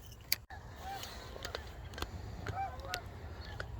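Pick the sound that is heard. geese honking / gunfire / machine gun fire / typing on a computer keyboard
geese honking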